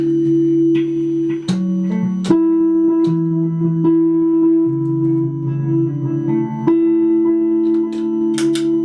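An electric guitar plays sustained single notes with repeating echoes trailing each pluck, the delayed repeats overlapping into a shimmering layered tone.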